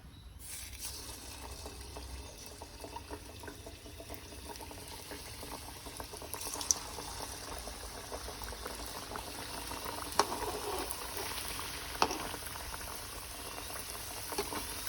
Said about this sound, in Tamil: எண்ணெய் இப்போ காஞ்சிருச்சு நல்லா. இப்போது நம்ம செஞ்சு வச்ச அந்த சமோசாவை உள்ளே போட்டுடலாம்.